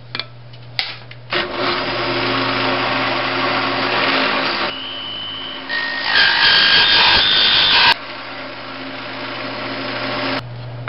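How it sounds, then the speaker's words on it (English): A power drill with a 2-inch hole saw grinding steadily through a wooden board, a sustained buzzing whine that shifts pitch as the cut deepens, then briefly stops and restarts. "Next, we're going to cut out the holes with the 2-inch hole saw."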